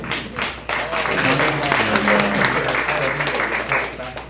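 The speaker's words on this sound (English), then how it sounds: "let's give him a thank you, a round of applause" Audience applause at an eco symposium, a steady wash of clapping from a room of listeners that swells after a brief lull and holds fairly loud throughout, with voices faintly mixed in.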